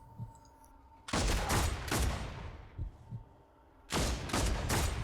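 Gunshots in Warhammer 40K Deathwatch, two heavy bursts of rapid, loud, close fire separated by a quieter stretch with a few isolated thumps.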